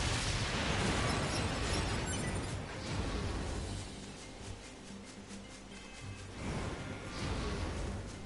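Loud explosion in Nier: Automata, a dense roaring blast with rumbling debris that fades and then swells again, close and with no talking.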